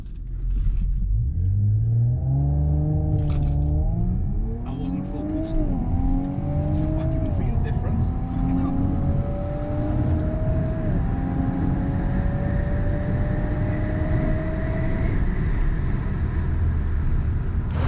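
A car launches hard and accelerates through several gears, the engine note climbing repeatedly and dropping at each shift, loud and close from inside the cabin, settling into a steady high-speed drone with wind and road rumble.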